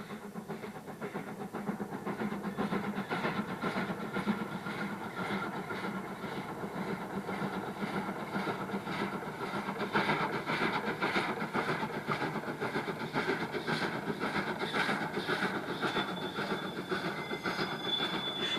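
Train running on a railway line across the Atacama desert in a mineral-mining region, a continuous steady rumble of wheels and wagons with faint squealing and rhythmic clatter, fairly close and unchanging throughout.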